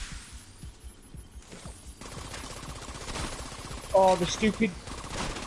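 Gunfire in The Division 2 rattles out as bursts of rapid shots aimed at the player, mixed with game effects while a player talks over it.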